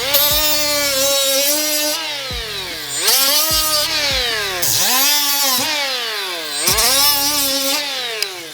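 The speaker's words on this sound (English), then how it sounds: "So I'll just grind them down" A power grinder whines loudly, its pitch dipping and recovering repeatedly as it bites into metal in bursts, with no talking.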